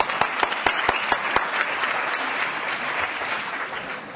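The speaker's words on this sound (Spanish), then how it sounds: "un aplauso, muy bien" Audience applause at a live stage event, a dense steady wash of clapping from a crowd with a few sharper near claps at the start, carrying on alone throughout.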